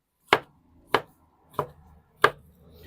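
A knife cuts meat into cubes on a cutting board, four sharp, evenly spaced chops about two-thirds of a second apart, each a crisp close knock with a short tail and near silence between.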